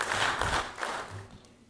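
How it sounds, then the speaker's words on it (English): An audience at a candidate forum gives brief, moderately distant applause that fades out within a couple of seconds. "Let's give him a big round of applause."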